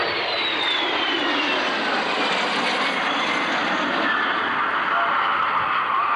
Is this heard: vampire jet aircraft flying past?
yes